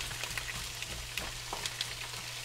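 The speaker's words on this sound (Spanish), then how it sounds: "Vamos a saltear los vegetales." Vegetables sautéing in a hot pan give a steady close sizzle with scattered crackles and pops throughout, heard alone without talk.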